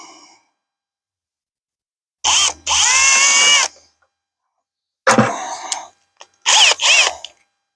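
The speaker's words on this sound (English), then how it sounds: "Drill the first hole" A power drill whirs in two short bursts, then in two more after a pause, loud and close, revving up and down as it bores a pilot hole in a bucket.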